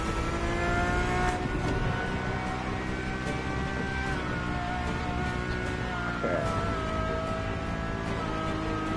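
A Ferrari engine in the racing game The Crew Motorfest holds a loud, steady tone, rising and shifting in pitch as it revs. Game music runs underneath.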